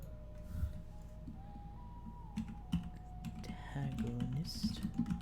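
Fingers typing on a computer keyboard in a quiet room, a run of light clicks heard up close, with a soft voice coming in near the end.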